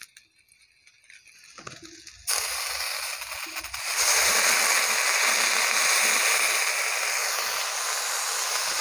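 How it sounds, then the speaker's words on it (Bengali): Water poured into a hot pan of brinjal and prawn curry, rising from faint kitchen noise into a sudden loud, sustained steamy sizzle and hiss that swells further and keeps roaring close up without pause. "এবার আমি জল দিয়ে দেব।"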